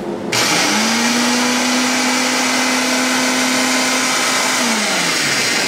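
An electric blender mincing ginger and onion starts abruptly and runs as a loud, steady motor whine with a grinding roar, then winds down at the end.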